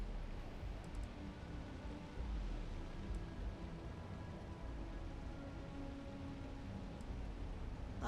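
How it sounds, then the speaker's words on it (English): Steady rain hisses in Starfield, a soft, even wash of falling drops that never lets up, heard alone with no voices. "it would be nice if it would stop raining"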